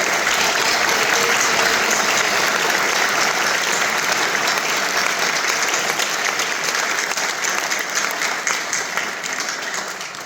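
Sustained audience applause fills a high school senior awards ceremony, loud and dense clapping holding steady throughout with only a slight easing toward the end, no speech over it.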